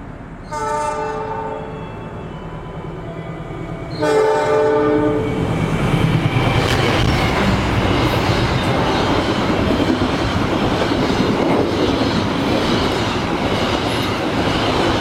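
A train horn blares twice, then the Purwojaya passenger train on the Indonesian railway roars past close by, a loud continuous rumble with rhythmic clatter of wheels on rails.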